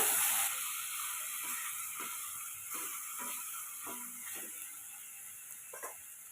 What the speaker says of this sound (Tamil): இஞ்சி பூண்டு பேஸ்ட்டு சேர்த்துட்டு இதை இப்போ நல்லா வதக்கி விட்டுக்குங்க